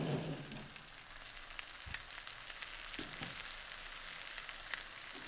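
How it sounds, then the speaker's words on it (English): Onions and apples softening in butter in a pan, a soft, steady crackling sizzle heard close but quiet, with a few faint bumps and no voices. "we're going to let that cook down for just a few minutes to soften the"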